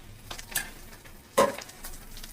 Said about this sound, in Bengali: একটু ঘি দিয়ে দিচ্ছি সামান্য